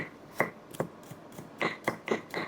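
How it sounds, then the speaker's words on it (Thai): A knife chops shallots on a cutting board in a Thai home kitchen, with about ten crisp, uneven strikes that sometimes come in quick pairs, close and clear. "หั่นหอมนี่หั่นหอมแม่จะหั่นทำให้ดูก่อน"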